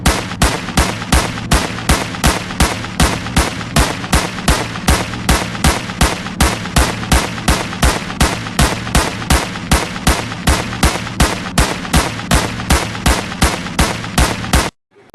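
Rapid pistol gunshots fired at KTM Duke and RC 390 motorbikes, a loud, evenly spaced string of sharp cracks repeating for about fifteen seconds before stopping abruptly.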